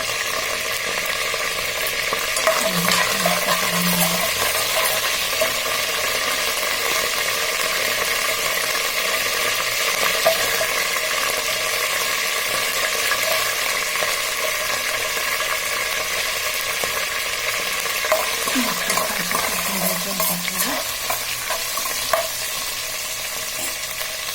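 Poha sautéing in a pan, a steady loud sizzle with continuous frying hiss and occasional scraping of a stirring utensil, faint voice murmurs at moments.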